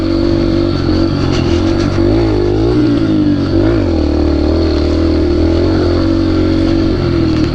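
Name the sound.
Yamaha TTR dirt bike engine revving while power sliding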